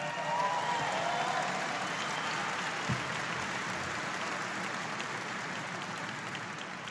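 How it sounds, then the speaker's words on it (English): An audience at a political speech claps in sustained, even applause, a dense wash of hands lasting throughout at moderate distance, with no clear voices on top. "So give them a big round of applause."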